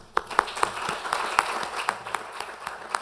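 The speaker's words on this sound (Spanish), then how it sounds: "daros un fuerte aplauso por vuestro trabajo" Brief applause for staff at a forum on the Canary Islands Government's Transparency Law, sparse sharp claps that swell into a steady patter, with some talk.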